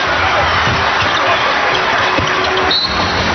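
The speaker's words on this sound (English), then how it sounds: "Listen to the buzz in the crowd" A basketball arena crowd buzzes through a 2006 NBA pre-season game between the Houston Rockets and Memphis Grizzlies, a loud, steady roar that runs the whole time, with a ball bouncing on the court and a sneaker squeak near the end.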